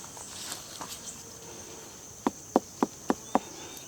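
Five quick hollow knocks ring out as a fruit is tapped to judge ripeness in a garden in Bocas del Toro, Panama, each a short resonant twang, evenly spaced against a steady whine of insects.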